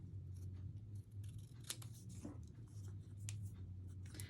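Scissors snip through Hello Kitty card paper in quiet, close, irregular cuts over a low steady hum.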